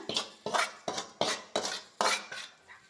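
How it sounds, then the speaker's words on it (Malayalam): Seven rhythmic scraping clinks of a metal spoon against a pot as fried masala is spooned into cooked beef, each stroke bright and close, with no talking. "ഇതിനെ ഇറക്കി വെച്ചിട്ട് നമ്മൾ വെന്തിരിക്കുന്ന ബീഫിലേക്ക് തട്ടിക്കൊടുക്കുകയാണ്"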